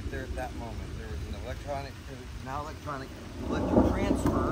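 Thunder from a violent storm rumbles low and steady behind a voice. The rumble swells louder near the end, with rain-like hiss beneath.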